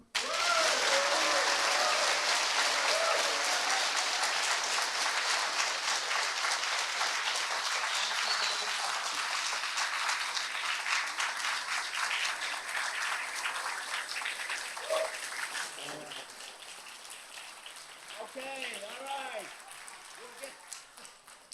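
An audience at a community forum on diversity and specialized high schools in North Brooklyn breaks into loud, sustained applause that slowly thins and fades, with a voice speaking briefly as it dies away.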